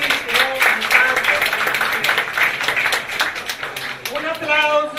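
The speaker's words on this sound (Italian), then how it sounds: "Un applauso a tutti questi artisti." Audience clapping at an art and music award ceremony in Padova, a steady patter of hand claps running beneath a voice speaking over a microphone.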